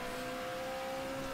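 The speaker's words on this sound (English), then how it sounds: "Engine sounds pretty cool as well." Race car engine in the RSS Classic Endurance Pack racing game, a steady sustained drone with a strong tonal hum, held at constant revs and filling the clip without pauses.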